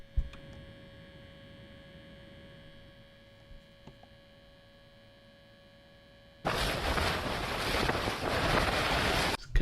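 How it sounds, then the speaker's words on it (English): A Raspberry Pi 4 cooling fan in a small case runs with a steady tonal hum and whine. About two-thirds of the way in, a loud, broad rushing noise takes over. There is no talk. "Now, the fan does make a weird noise."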